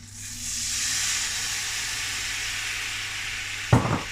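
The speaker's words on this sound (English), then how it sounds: "I'm going to put that in the pan now, then I'm going to light it." Whisky poured into a hot pan for a haggis cream sauce sets off a loud, steady sizzle that holds for several seconds, followed by a brief clatter of the pan near the end.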